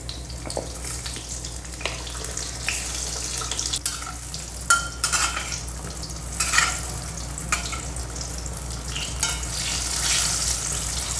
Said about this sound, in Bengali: তেলটা গরম হয়ে গেছে, এখন আমি বেগুনগুলো ভেজে নিচ্ছি।